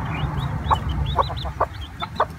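Cochin mother hen clucking softly with her new chicks, a string of short, close clucks over a busy background of faint cheeping and rustle.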